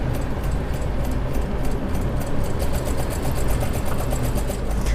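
Sewing machine stitching along a line on a kids' lehenga during an alteration, a loud, continuous close motor whir with rapid needle chatter throughout.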